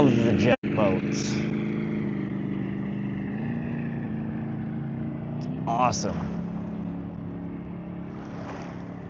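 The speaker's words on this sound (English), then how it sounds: "Love the jet boats." Jet boats motor on the Missouri River, a steady droning engine hum with a rise in pitch as one passes, heard under occasional nearby speech.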